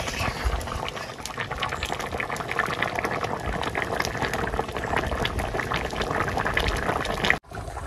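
Food boiling in a pot at an outdoor picnic cooking spot, a continuous bubbling, gurgling roil at moderate level that stops suddenly near the end.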